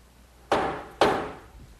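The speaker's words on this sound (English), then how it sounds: "now this next clamp is going to go over the top" Two sharp wooden knocks, about half a second apart, as a clamp is fitted over a wooden trestle tabletop, each thud close and quickly fading.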